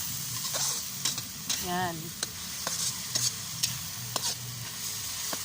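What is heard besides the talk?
alamang (tiny shrimp) being stir-fried, sizzling in a pan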